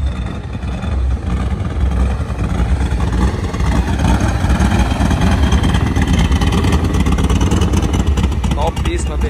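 Motorcycle with a loud aftermarket exhaust at a street bike meet in Luziânia, Brazil, a rough engine roar close by that swells with revs and stays loud and continuous, with voices mixed in.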